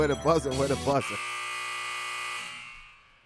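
A short burst of talk gives way to a steady electronic buzzer tone, sounded on a sports talk show, that holds for about two seconds before fading out.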